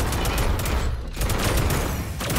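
Sustained rapid turret gunfire in the video game Akimbot, a loud continuous rattling barrage of shots close up that runs nearly unbroken throughout.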